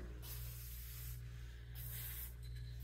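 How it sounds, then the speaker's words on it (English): Spray lubricant on the metal groove and parts of an Ariens snow blower: two or three close aerosol bursts with short pauses between, steady and fairly soft. "So I'm going to use some spray lubricant here."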